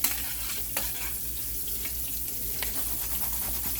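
Cajun-seasoned shrimp frying in hot oil, a dense continuous sizzle and crackle with scattered sharper pops from the pan, fairly close and steady throughout, with no talking.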